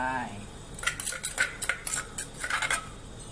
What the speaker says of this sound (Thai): ใส่พริกแกงลงไปแล้วก็คน คน เคี่ยวไปให้พริกแกงมันหอมกับกะทิก่อนนะคะ